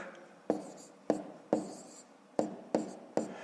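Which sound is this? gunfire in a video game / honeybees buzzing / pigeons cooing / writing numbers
writing numbers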